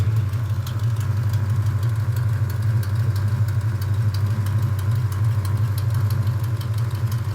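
A 1972 Plymouth Road Runner V8 idling with a leak at the center of the exhaust manifold, a steady low rumble with a continuous fine ticking throughout.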